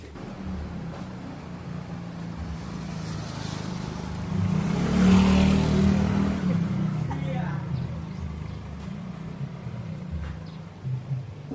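A road race motorcycle, brought from a workshop in Bojonegoro with a problem, runs on a stand with a steady rumbling engine that swells into a louder rev mid-clip, people talking over it.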